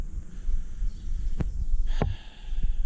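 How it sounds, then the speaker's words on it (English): An air compressor runs nearby with a low, pulsing, throbbing hum. A few sharp clicks or knocks punctuate the steady drone, and there is no speech. "air compressor's working good"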